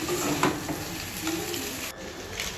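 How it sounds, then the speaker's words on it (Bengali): Pasta and egg being stirred in a hot wok, a soft sizzle with scraping and light clinks of the utensil against the pan, steady and close with no voices. "পাস্তা নাড়াচাড়া করলাম।"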